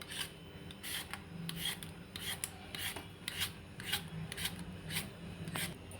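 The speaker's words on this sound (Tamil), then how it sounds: "வெள்ளரிக்காயை தோல் சீவி நறுக்கி வச்சுக்கிடுவோம்." Cucumber skin shaved off with a peeler in a home kitchen, a steady series of short raspy scraping strokes, close and fairly quiet, with no voices.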